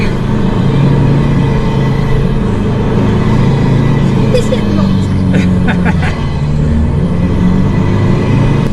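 A 4WD crawls in low range over a bumpy sand track on Fraser Island, its engine droning in a steady low rumble inside the cabin with body creaks and jolts, while voices talk faintly over it.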